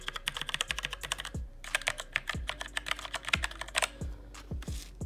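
Rapid mechanical keystrokes on a Redragon K550 keyboard fitted with custom purple switches, a close, crisp clatter of irregular clicks with a few heavier thocks, no talking.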